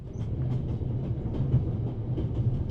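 Train ambience from the video game The Raven: Legacy of the Master Thief: a low, steady rumble of a rail carriage in motion with faint rhythmic wheel clatter, continuous and without talking.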